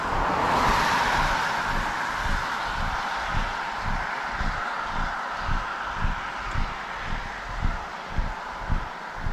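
A car passes from behind on a rain-soaked road, its wet tire swish swelling and fading early while a walker's steady footsteps continue through the rain.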